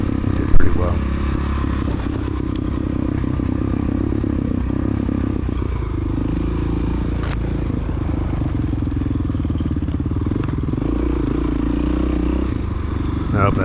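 An orange dirt bike at a cross-country race rides past, its two-stroke engine rasping and buzzing steadily at mid distance, with clattering and other engines mixed in and people talking over it.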